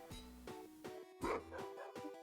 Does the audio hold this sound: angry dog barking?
yes